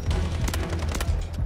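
In the Delta Force shooter game, a rapid burst of gunfire and booming blasts fills a short, loud moment, with several sharp shots cracking in quick succession.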